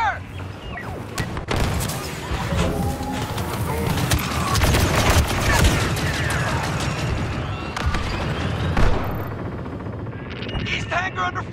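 Dense gunfire and explosions fill a Star Wars Battlefront II battle on the snowy Hoth map, with continuous blaster volleys, booms and clattering mechanisms throughout and game voices calling out over the chaos.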